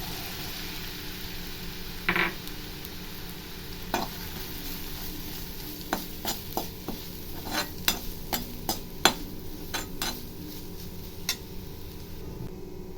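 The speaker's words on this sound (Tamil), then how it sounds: "அடுத்ததான் தேங்காய் போட்டு நல்லா இதை கொஞ்சம் ட்ரையாக வறுத்துடலாம்." Grated coconut dry-roasts in a pan for rice flour laddu, with quiet scraping and the scattered ticks and taps of a spatula stirring against the pan over a soft background.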